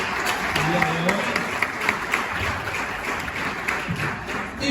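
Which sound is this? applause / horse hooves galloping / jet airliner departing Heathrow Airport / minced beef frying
applause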